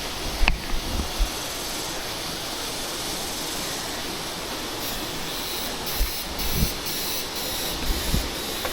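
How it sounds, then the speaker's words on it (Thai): A strong flood current rushes through a narrow gorge below a broken bridge, a continuous loud roaring wash heard from high above, steady throughout with a few low thumps and no talk. "นี่น้ำพัด ลองคิดดูว่าน้ำมันแรงขนาดไหน"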